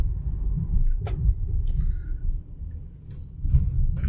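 A car rolls along a bypass road near a large bridge in Chhatrapati Sambhajinagar, its engine giving a steady low rumble throughout, with a few faint higher clicks and rattles on top and no talking.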